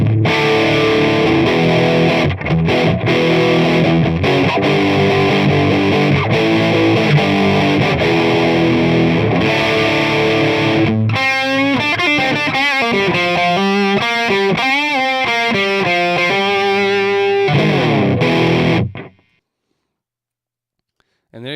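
An electric guitar plays through an amp in a steady distorted passage of driven chords, then shifts to choppier, brighter phrases before stopping abruptly. It is loud and continuous with no talking.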